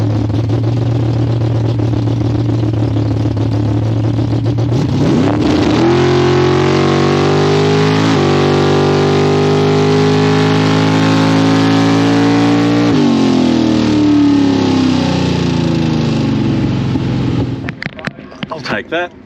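A radial-tire drag racing car at Palmyra roars at full throttle through a run, its engine note climbing through gear changes in loud, sustained harmonics before cutting off abruptly near the end; no talking over it.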